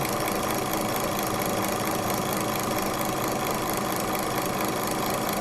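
An Austin Healey 3000 engine runs steadily during a distributor timing check, a close, loud, continuous idle with a rough mechanical rumble and no voices.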